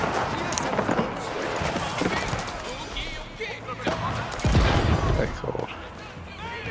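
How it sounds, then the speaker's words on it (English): Bombard cannons fire during an Age of Empires IV match, sharp booms and crashing impacts scattered amid game battle noise, with overlapping talk throughout. "the cannon, the bombard are going to pick off another house there"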